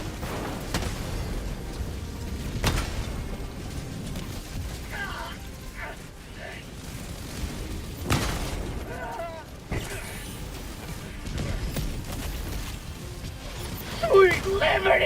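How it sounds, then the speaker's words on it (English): Orbital barrage strikes land in Helldivers 2, with several scattered booms and sharp impacts spread across the stretch amid mechanical game noise, while voices talk intermittently over the action. "Requesting orbital. Orbital barrage incoming."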